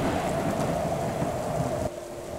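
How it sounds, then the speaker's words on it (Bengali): Heavy rain and gusty wind roar through a cartoon storm at night, a dense continuous wash of downpour with a low rumble, loud and steady before dropping slightly near the end. "বড় বড় বৃষ্টির ফোঁটা আর দমকা হাওয়ায় চারিপাশটা তোলপাড় করে দিচ্ছে।"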